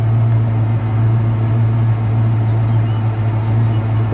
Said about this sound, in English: Listen to it idle.